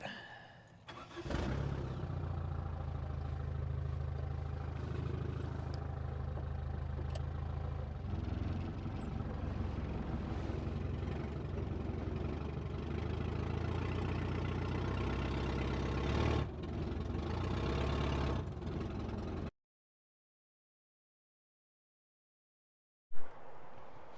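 A 1973 Toyota Hilux, long abandoned, cranks over and settles into a steady rough idle close by for about fifteen seconds, then cuts out abruptly before a brief final thump.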